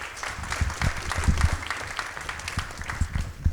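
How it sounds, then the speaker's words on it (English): An audience at a nonprofit awards ceremony applauds an award recipient, steady scattered clapping of moderate loudness with a few sharper close claps, and no voices. "Round of applause for Cheryl."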